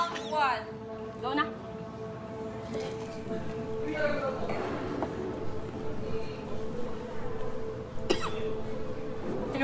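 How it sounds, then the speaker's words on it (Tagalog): Coughing and throat clearing from a person after eating very spicy chili during a spicy-food challenge, several harsh bursts under ongoing background chatter from others nearby. "Umubo na."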